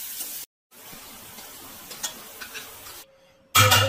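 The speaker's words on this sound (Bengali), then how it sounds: "এই যে পেঁয়াজের বেরেস্তা ভাজা হচ্ছে" Onions frying for birista sizzle quietly in hot oil, a soft crackling hiss with light ticks and pops, broken by a brief gap and ending in a sudden louder burst.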